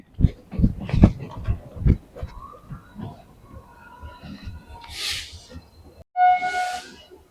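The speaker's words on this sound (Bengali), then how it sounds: "এ দেখো ট্রেন আসছে চলো পালিয়ে যাই" Talking at first, then a train horn blares twice over a steady hiss, close and loud, the second blast longer and steadier.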